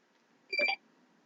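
A phone notification rings out as a short, bright two-tone electronic chime, heard once over a quiet room background.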